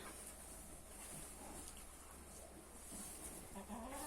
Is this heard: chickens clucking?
yes